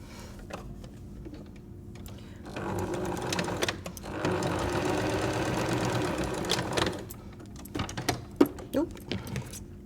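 A sewing machine runs quickly to stitch plus-sign patchwork quilt pieces together, a steady close whirring burst lasting several seconds, framed by handling clicks and fabric rustle before and after.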